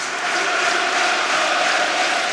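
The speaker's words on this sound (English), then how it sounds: "Resounding cheering, chanting around all 4 stands at Villa Park" A packed Villa Park crowd at an Aston Villa versus Manchester United Premier League match, a steady wall of cheering and chanting roaring evenly from all around without a break.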